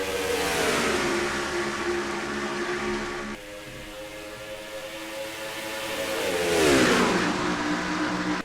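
Several race trucks roar off the start of the Menards 225 in the NR2003 Turkey Hill Truck Series game, a dense engine drone rising in pitch, dipping, then swelling again as the pack accelerates, loud and steady with no talk.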